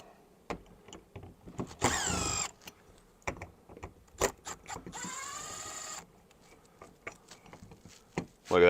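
Number 2 Phillips head screws are undone on an RV door lock, with two whirring bursts of a driver among scattered sharp clicks and taps, close and fairly quiet.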